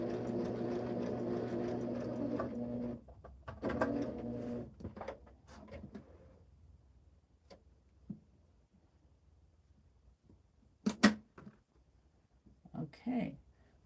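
A sewing machine joins hexagon quilt pieces, humming close and steadily for a few seconds before stopping, followed by quieter handling noises, a person talking and some pigeon-like cooing.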